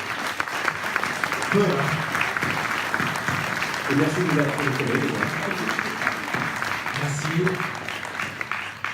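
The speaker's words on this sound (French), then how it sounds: "On peut les applaudir bien fort." An audience at a French short-film screening event claps steadily for the guests on stage, a sustained applause bed under a presenter's voice speaking over it.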